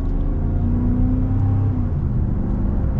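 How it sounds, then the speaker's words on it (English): A Ram pickup truck engine drones at steady mid throttle, a deep continuous rumble heard from inside the cab with faint whirring. "this is mid throttle"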